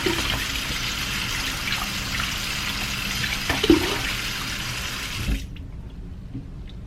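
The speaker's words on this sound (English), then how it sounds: "now I am going to add some cool or cold water to the bowl" Cold water pouring from a tap into a bowl, a steady rushing splash that runs for about five seconds and then stops abruptly, leaving near silence.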